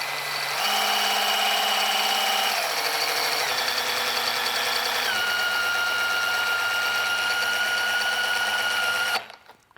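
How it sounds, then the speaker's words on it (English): A power drill on the nut retracting a quick-drop trailer tongue jack whirs continuously, its pitch stepping down a few times under load as it runs for several seconds before stopping abruptly. "simply taking your drill, you're going to want to put it right on the nut and retract the jack fully"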